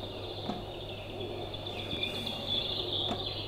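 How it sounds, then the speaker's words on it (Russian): A baby swing's built-in nature sound plays birds chirping and tweeting in short calls over steady insect trilling and soft background hum, an outdoor woodland ambience. "Птички щебечут лес."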